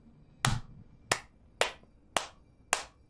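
Five sharp hand claps, roughly evenly spaced and moderately loud, each followed by a brief ringing echo from the corner of a room.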